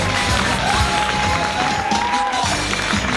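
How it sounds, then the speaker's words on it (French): Audience at an improv comedy show by Compagnie Tadam applauding and cheering a game winner, a dense steady wash of clapping and crowd noise throughout, with a whistle-like tone sliding across the middle. "On peut applaudir Étienne. C'est le vainqueur."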